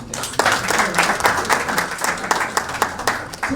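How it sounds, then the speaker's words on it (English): Applause from the audience at a stakeholders' meeting on Kenya's macro fiscal policy, a steady mid-level clapping with scattered sharper claps and some talk mixed in. "Let us give a warmer round of applause"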